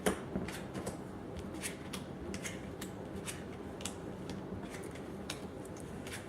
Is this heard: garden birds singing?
no